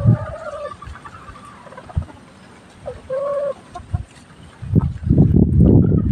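Backyard chickens cluck and call near plastic hanging feeders, with drawn-out squawks and scattered clucks, then a louder flurry of pecking and clucking toward the end.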